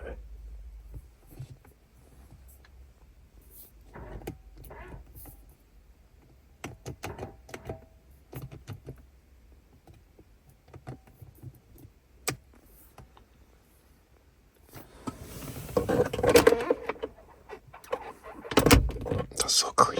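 The power window of a 20-year-old Subaru creaks and groans as it moves, preceded by quiet clicks and handling sounds inside the car, with soft speech at times.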